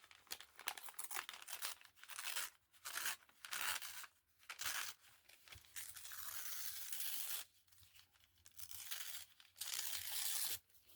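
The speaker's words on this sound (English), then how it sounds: "I'm going to tear along the top to make it look rougher" Magazine paper torn slowly along a page edge in repeated ripping strokes, close and crisp, with short pauses between tears and no talking.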